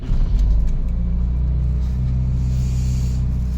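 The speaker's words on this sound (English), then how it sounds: "y'all ready to hear the quiet Celica again?" A 2000 Toyota Celica GT engine runs with a steady, low rumbling idle, close and continuous with no talk.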